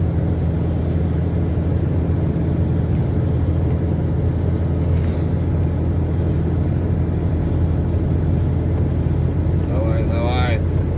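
Truck diesel engine held at 1600 rpm in low sixth gear during a blizzard at -40°C, a steady low cabin rumble throughout with someone talking over it.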